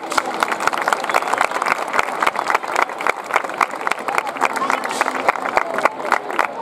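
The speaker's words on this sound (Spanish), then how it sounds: "Un aplauso para ellas." A crowd applauds at a festival queen coronation during town fiestas, sharp individual claps standing out in a steady uneven patter, with a voice speaking over the clapping throughout.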